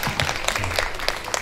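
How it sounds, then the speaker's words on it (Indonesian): Brief burst of audience applause at a talk event, scattered claps close by over a short moment. "Boleh tepuk tangan buat Dina?"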